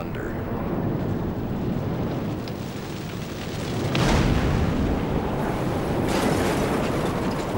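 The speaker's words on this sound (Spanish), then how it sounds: "Y a continuación le sigue un estruendo que se aproxima." Asteroid impact explosion followed by an approaching rumble: a dense, loud, continuous roar that swells into a sharper burst around the middle and keeps rumbling at full strength.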